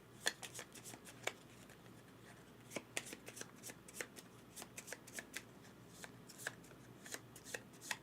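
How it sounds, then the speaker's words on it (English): Playing cards being shuffled for a board game, a steady run of crisp riffling snaps and flutters close by, with quick pauses between bursts. "so shuffle"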